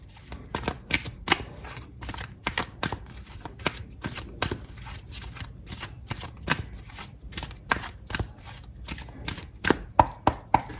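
Tarot cards being shuffled and drawn, a long run of quick, crisp riffling snaps and slaps at a steady rhythm, close and fairly loud.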